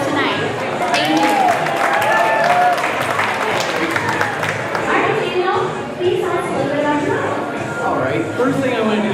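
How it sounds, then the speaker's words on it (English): An audience at an evening event in a hair salon applauds, giving a dense, continuous wash of clapping that holds steady throughout, mixed with crowd chatter and voices. "can I please have a round of applause for Van Michael Salon for hosting us tonight?"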